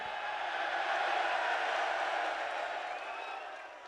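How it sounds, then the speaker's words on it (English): A loud crowd roars and cheers continuously at a UFC 304 pre-fight press conference, a dense, sustained wash of voices and applause with no breaks that slowly eases toward the end. "The crowd's that loud, I can't even hear you."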